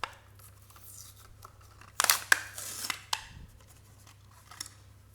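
A Hot Wheels diecast car package is torn and cut open up close: a few sharp ripping and snipping bursts in the middle, then lighter crinkling and handling, with no talking.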